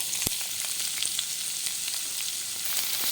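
Finely chopped onions fry in hot oil for a sweet corn gravy, giving a steady, close hiss of sizzling that holds throughout after one sharp click at the start.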